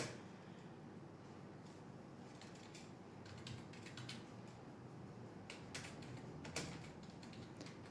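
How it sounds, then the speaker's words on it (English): Computer keyboard typing in irregular quick bursts of clicks, faint and close, over a steady background hiss with no talk. "so don't mind me typing, guys."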